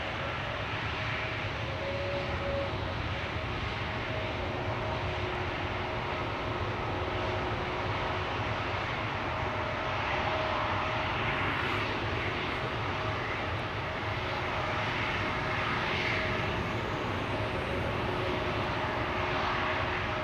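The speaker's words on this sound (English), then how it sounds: "This is Aegean Flight 3625 returning to Athens. Brand new airplane, first flight December 2024." A brand-new Aegean Airlines Airbus A321neo jet airliner roars loudly and continuously at Schiphol Airport, a dense broadband engine rumble holding steady throughout with no voices.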